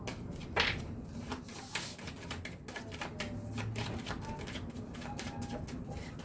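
Tarot cards are shuffled and handled close by in quick, crisp clicks and flicks, with soft rustles between bursts, in a quiet room.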